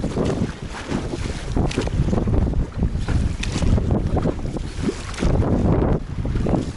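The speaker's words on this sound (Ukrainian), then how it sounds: "Що хвиля, що вітер." Strong wind buffets the microphone over splashing waves on the open water of the Dnieper River, a constant rough roar with gusty surges throughout.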